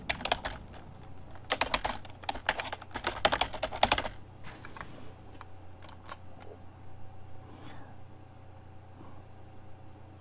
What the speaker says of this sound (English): I think usually I have to put in my password